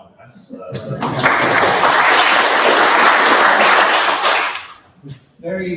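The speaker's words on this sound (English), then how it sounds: "a round of applause for Rob for actually keeping us all in line." A burst of audience applause at a Cowper candidates forum, swelling after a spoken lead-in, holding loud and dense for about three seconds, then dying away as a voice resumes talking.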